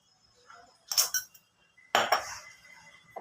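A spoon clinks and scrapes against a metal pot while biryani masala is stirred into chicken, two short bursts of mixing about a second apart, close and fairly quiet, with no talking.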